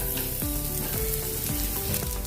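Green chillies roast in a hot pan with a loud, dense, continuous sizzle and repeated scraping strokes of a spatula, close up and with no talking.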